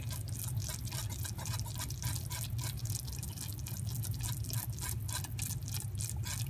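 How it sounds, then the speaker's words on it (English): A whisk beats a fudge mixture in a pot on the stove, making a steady, quick scraping and clicking rhythm that is faint and continuous throughout. "I'm going to whisk this."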